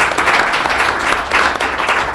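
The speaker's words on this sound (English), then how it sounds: "we should give one last round of applause to all of our speakers" Audience applause closing a panel discussion, a dense steady round of many hands clapping, fairly loud and sustained across the whole clip.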